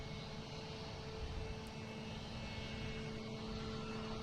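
A jet airliner takes off at Boston Logan airport. A faint, steady engine roar and rumble is heard from a distance and holds constant with no voices.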